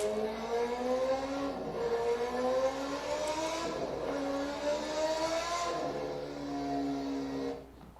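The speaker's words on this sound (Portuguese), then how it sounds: "O som de moto." Motorcycle engine revving in repeated rising sweeps, each climb in pitch followed by a drop before the next, heard fairly close and alone with no talk.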